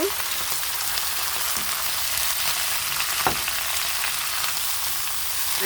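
Potatoes frying in a pan with Malabar spinach seeds and leaves give a steady, close sizzle with a soft crackle and one brief stir near the middle, with no voices.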